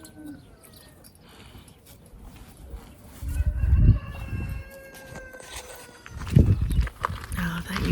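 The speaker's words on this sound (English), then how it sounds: "the chickens all the time, 24/7." Chickens on a Mediterranean farm cluck and call in bursts around a rural yard, with louder close flurries midway and near the end, under a speaking voice.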